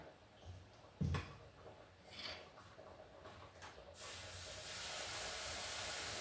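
A sharp knock, then a loud steady hiss bursts in and holds as dosa batter sizzles on a hot griddle, close and continuous.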